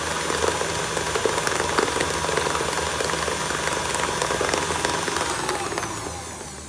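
An electric mixer with a beater attachment whirs steadily as it beats butter for buttercream icing, a loud constant motor drone that tails off slightly at the end.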